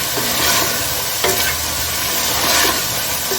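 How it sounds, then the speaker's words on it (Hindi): Chicken pieces seasoned with black pepper frying in a pan for chow mein, a steady close sizzle with a few louder stirring scrapes, no voices. "अब हम इसको ज़रा भून लेंगे चिकन को"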